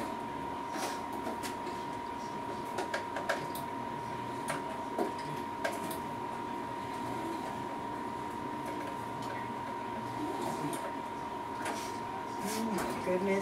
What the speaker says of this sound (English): let me sew this real quick because I want to distress the edge